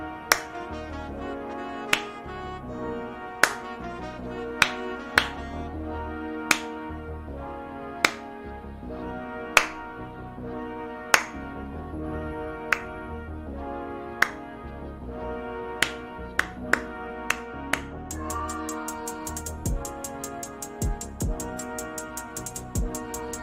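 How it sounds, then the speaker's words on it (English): Finger snaps used as sparse percussion in a music track, sharp clicks landing roughly every one to two seconds over a steady instrumental backing, with a denser run of rapid taps near the end. "you could do something where you do like a little snap with like a reverb or like a delay on it"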